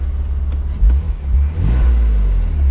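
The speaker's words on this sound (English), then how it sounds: "very responsive engine" Engine of a 2001 BMW Z3 2.5 roadster revving up close, a steady low rumble rising into a sharp rev midway and holding strong to the end.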